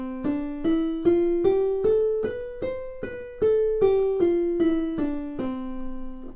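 Piano played loud with the weight of wrist and arm leaning into the keys, a steady run of about fourteen struck notes climbing and descending a scale, each strike full and ringing, close and solo with no talk.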